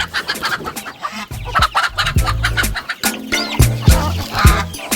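A broody hen sitting on her nest clucks loudly and close, in low, repeated throaty bursts with irregular rhythm, while other chickens make sharp clucks and squawks around her.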